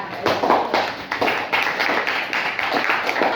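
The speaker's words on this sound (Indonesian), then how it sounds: "Kita beri tepuk tangan untuk kelompok ahli 3" Classroom applause for expert group 3 after their presentation, a steady patter of hand claps from a group of students, moderately loud and continuous throughout.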